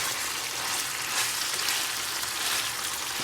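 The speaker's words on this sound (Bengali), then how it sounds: "দিয়ে একটু নেড়ে চেড়ে দিব" Rohu fish roe fries in a pan while being stirred, producing a steady, close, loud sizzle with soft scraping that runs unbroken throughout, with no voices.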